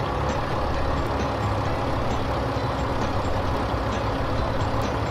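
A tractor engine drones loudly and steadily up close, a constant heavy rumble with no pauses.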